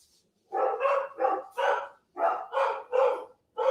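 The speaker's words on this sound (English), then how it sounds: "We have 3 dogs here, so you're going to hear them for a second." Several dogs bark in a quick burst of seven loud, close barks in irregular pairs, with short gaps and no talking over them.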